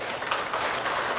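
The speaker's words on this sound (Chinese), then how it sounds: "谢谢大家的掌声，虽然有点零落一点" Thin, scattered applause from a small audience at a Buddhist teaching, a brief patter of claps with no voices over it.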